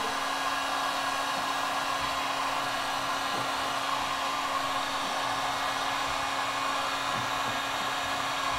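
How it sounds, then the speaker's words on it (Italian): A bodyshop heat gun blows hot air with a continuous, even whooshing roar and a steady motor hum, close by and unbroken throughout. "Possiamo prendere il phon, quello per carrozzieri, per scaldare tutto intorno al nostro pezzo"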